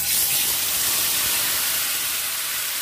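Chicken pieces dropped into hot oil already used for frying onions, giving a loud, continuous broadband sizzle and hiss that holds steady throughout.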